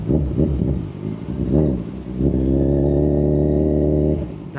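Road traffic with motorcycles close by, a motor revving and idling in a steady drone, a passing engine rising and falling over the hum.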